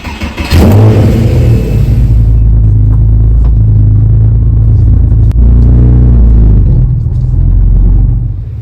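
A Porsche 997 engine fires and rumbles loudly up close, revving as the car pulls away, with a deep steady drone that swells again toward the end.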